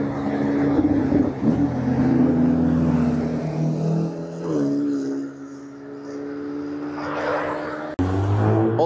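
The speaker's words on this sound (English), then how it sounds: "Exhaust." Sports car exhaust at a fuel station by the Nürburgring, with V12 and M2 cars nearby: a loud, steady engine drone with strong low harmonics that dips around the middle, swells again and cuts off with a sharp change near the end.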